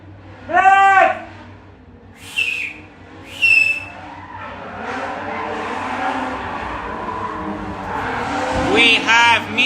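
Drift cars chase each other on a practice track, with repeated loud bursts of screeching tire squeal over a steady engine roar that builds toward a dense, sustained skid near the end.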